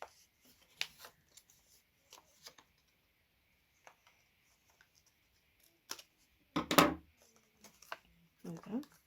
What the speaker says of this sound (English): Or if you want, you can cut circular shapes.